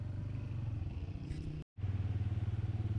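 A motorcycle engine drones steadily at close range while riding from Arang Kel to Taobat in Azad Kashmir, with a rhythmic pulsing rumble. The sound cuts out for a moment near the middle, then resumes just as strongly.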